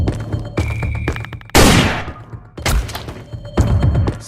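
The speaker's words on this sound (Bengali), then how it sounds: "আগে ওরে গুলি কর" Gunfire in a Bangla action comedy short film: several bursts of loud shots and heavy thumps, with sharp blasts at intervals and brief gaps between volleys.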